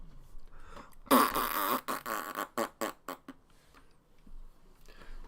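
A voice imitates a fart with the mouth, giving one long buzzy, sputtering blurt followed by several shorter choppy bursts, loud and close, then a faint trailing murmur.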